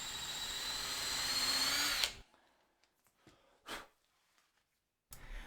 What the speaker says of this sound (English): So for these, we drill 1/4 inch holes, and we're careful to drill our timber with a sacrificial board behind it.